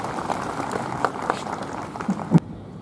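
An audience at a Republic Day celebration at SGPGIMS hospital institute applauds; fairly soft, scattered clapping runs throughout, with a few sharper claps near the end before it cuts off.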